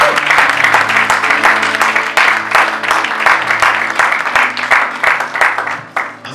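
A church congregation applauds loudly and continuously, dense clapping filling the room for several seconds with a slight swell and fade.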